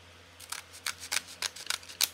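Scissors cut a seaweed wrapper in two, about eight crisp snips close up in a quick, uneven rhythm, with no talking.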